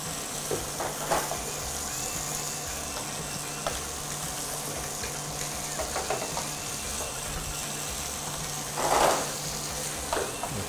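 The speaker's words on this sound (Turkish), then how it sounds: "Bu arada soğanları da etle beraber pişiriyorum." Meat and onions frying together in a pan, a steady close sizzle with soft crackles and occasional louder stirring scrapes, no talking.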